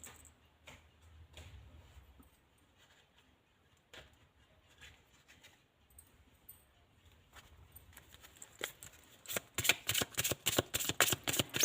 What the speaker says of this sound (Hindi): ओके, कुछ और कार्ड लूँगी मैं आपके लिए।